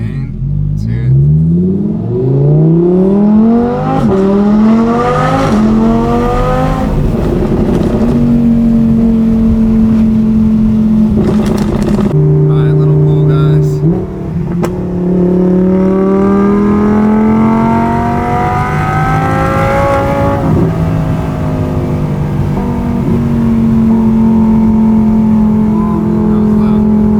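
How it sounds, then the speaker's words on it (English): Audi R8 fitted with a Quicksilver exhaust pulling hard, the engine climbing through repeated loud rising revs with gear changes between them, close and aggressive, with brief drops before each surge. "New exhaust is on. Honestly, it sounds insane. Let's hear it."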